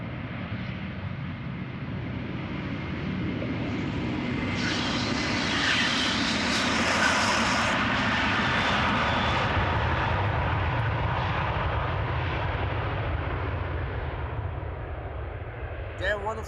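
A jet airliner departing Amsterdam Schiphol Airport, heard close up as a loud, continuous engine roar that swells and stays strong throughout, with a brief knock near the end.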